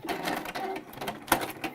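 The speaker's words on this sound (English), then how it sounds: "give it another little back stitch" Sewing machine running a short back stitch on a fabric jewelry organizer pouch, a quick close mechanical whirring and chattering with a sharp click near the end.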